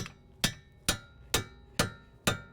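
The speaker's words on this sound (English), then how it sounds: "We'll hit on it with a hammer and that'll wedge it in and pop it loose." Six sharp metallic hammer strikes on a pickle fork, wedging loose a front control arm joint on a 2009-2014 Honda Fit, ring out at a steady pace, each hit close and loud with a brief ringing tail.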